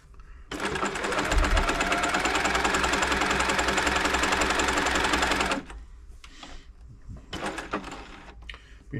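An Elna Club Computer 500 sewing machine runs a steady, loud burst of stitching for about five seconds, then stops, followed by a few short clicks and brief bursts nearby.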